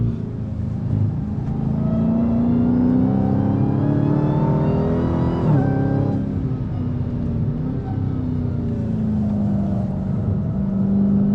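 A supercharged 6.2-liter V8 in a 2023 Dodge Challenger Black Ghost drones loudly on a race track, its revs climbing, briefly dipping midway, then pulling hard again in a sustained, continuous roar.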